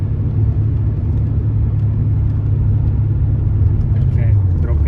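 A BMW E31 fitted with a swapped-in S62 engine, heard from inside the cabin as a loud, steady low rumble that holds evenly throughout, with a slight rise in pitch toward the end.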